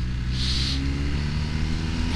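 A motorcycle engine drones steadily and loudly throughout, an even, continuous hum while riding, with no voices.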